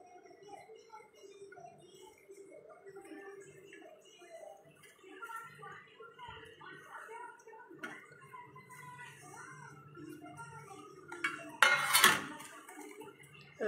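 Chopped onion and tomato being mixed together, a steady soft wet squelching and light clatter that builds into a brief louder burst of mixing near the end.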